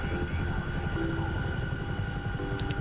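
A heavy Chinook helicopter flown in a video game gives off a steady, close rotor and engine drone with a dense low thump, continuous and even throughout without pause.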